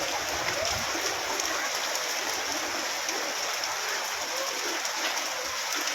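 Heavy downpour with hail pelting down in Saha, Ambala, a loud, steady, dense hiss of rain that holds without a break for the whole stretch.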